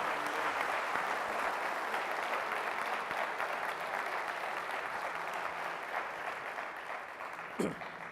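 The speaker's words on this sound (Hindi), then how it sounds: "जोरदार तालियां बजाएं, यीशु के नाम को जलाल दें।" A church congregation at a Holy Spirit baptism service gives sustained, even applause that carries on for several seconds, heard at moderate distance and gradually easing.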